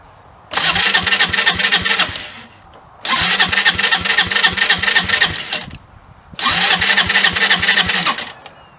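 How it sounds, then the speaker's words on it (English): A Hammerhead 250 SS engine cranks and catches in three separate bursts, each roughly two to three seconds of loud, rough running that dies away, with brief quiet gaps between attempts after an idle adjustment. "Let's see if it starts. Let's crank it up."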